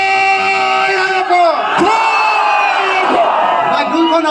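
A large crowd shouts and chants together in loud, sustained voices, with rising and falling yells running throughout.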